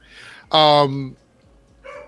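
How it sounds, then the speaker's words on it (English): Dogs in Australia bark at each other, with one loud, close, sharp bark between fainter yips before and after. "it's a dog in Australia. The dogs barking at each other."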